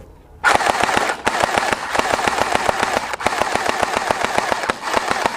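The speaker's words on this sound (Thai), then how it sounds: "ยิงออโต้เลยนะครับผม" A sand-colored M4A1 gel blaster fires on full auto: long bursts of rapid, evenly spaced, snappy shots close by, broken by two brief pauses, with a motorized whir under the rattle.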